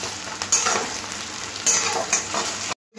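Onions sizzle in a pan with a little salt while a utensil stirs them, bringing repeated scraping sweeps over a constant close fry. The sound cuts off just before the end.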